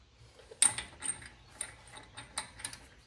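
A jack raises a GM/GMC 2500HD pickup during a 3-inch Rough Country lift kit install, with a sharp metallic clack followed by a series of softer ratcheting clicks and mechanical knocks, close and quiet with no talking.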